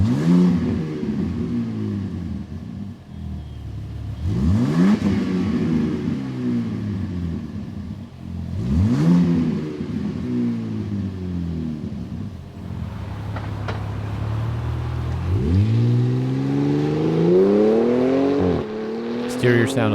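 Truck exhaust cold start through an OE valve with mid pipes: the engine cranks and catches with three strong revving rises that settle into a rumbling idle, followed by a longer build in pitch late on, loud and close.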